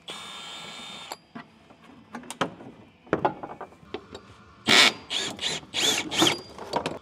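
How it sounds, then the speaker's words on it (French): A power screwdriver removing the protective under-cover on a Mercedes W201, a short whirring run at the start, scattered clicks and clatter, then a series of louder buzzing bursts near the end. "visseuse, vite, on dévisse et tout ça"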